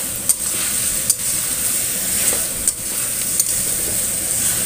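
Carrots and potatoes are stir-fried in chicken rendang sauce, giving a constant loud sizzle and hiss. Occasional sharp clicks of the spatula against the pan punctuate it at close range. No one speaks.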